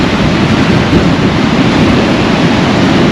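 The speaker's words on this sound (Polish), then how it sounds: "no właśnie znowu podbiega fala" Sea waves run up the beach at Hadera, Israel, a continuous loud broadband wash of surf with wind rumble, steady throughout with no voices.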